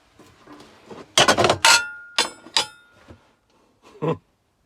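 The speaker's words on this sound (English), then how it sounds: "Can I strip that with an hammer and some other bits and pieces?" Several sharp metallic hammer blows strike close by in an irregular cluster on a copper heat exchanger being stripped, one leaving a brief ringing tone, with quiet scraping between.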